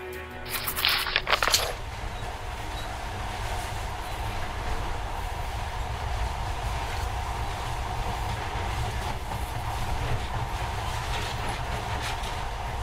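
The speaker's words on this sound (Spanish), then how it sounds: "Pero ahora este monorraíl parece hasta mágico, ¿eh?" A monorail train in the video game Metro Last Light Redux rumbles along steadily with a continuous rolling drone and faint rhythmic clatter, preceded by a brief burst of mechanical noise at the start.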